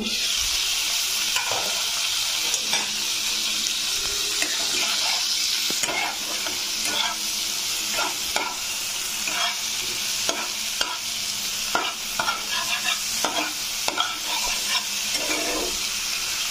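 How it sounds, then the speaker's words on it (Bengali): Spice paste sizzles and fries in a pan for shingi fish curry, a constant close hiss broken by frequent scraping stirs of a spatula, with no talk. "এবার মশলাটা ভালো করে কষিয়ে নেব"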